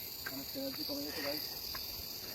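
Insects call steadily in a hillside forest at Rangpo, a thin continuous high buzz running throughout while a faint voice murmurs beneath.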